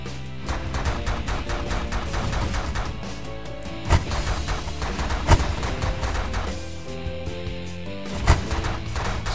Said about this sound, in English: Energy Blaster.